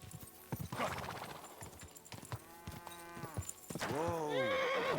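Galloping horse in Kingdom Come: Deliverance 2 with hooves pounding under game noise, then a loud, drawn-out neigh near the middle and another rising whinny toward the end.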